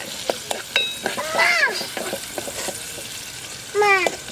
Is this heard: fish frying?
yes